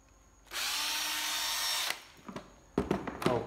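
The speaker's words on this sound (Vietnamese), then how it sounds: "máy khoan Hitachi 12V" A Hitachi 12V cordless drill spins up and runs in a steady high whine for about a second and a half, then stops. Handling clicks and knocks from the tool follow, close by, with no talk.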